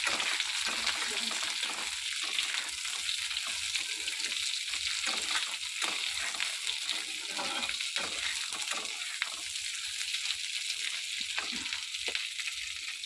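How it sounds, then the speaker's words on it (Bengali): Vegetables and fried bits stirred into onions in a hot pan, a steady bright sizzle of frying throughout with scraping stir strokes, close and continuous, no voices. "ভাজাগুলো দিয়ে খানিকক্ষণ নাড়তে হবে পেঁয়াজের সঙ্গে।"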